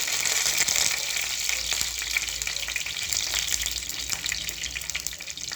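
Dried red chillies and tempering spices fry in hot oil for a palak-potato curry, giving a steady, close, dense sizzle and crackle with a few brief pops and no voices.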